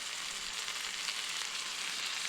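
Steady sizzling and light frying hiss from egg pasta with crumbled fried egg and tomato sauce being stirred in a pan, continuous and close with no talking.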